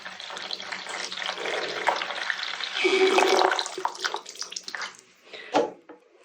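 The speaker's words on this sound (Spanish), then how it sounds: "El agua se les va a cambiar, pero aquí abajo en el plato." Water is poured into the saucer beneath a carnivorous bog plant's pot, a continuous close splashing trickle that swells in the middle and ends with a few short splashes.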